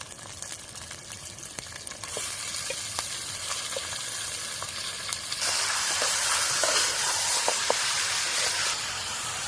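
Chicken pieces dropped into sizzling ginger paste in a pan, a close steady frying hiss that swells louder midway as the meat goes in, with a few light clicks of stirring and no talking.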